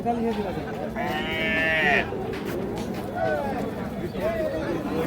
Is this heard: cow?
yes